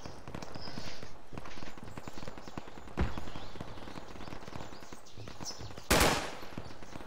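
Gunfire in the video game Project Reality, with rapid bursts of shots and two sharp, louder reports standing out among the irregular crackle at a moderate distance.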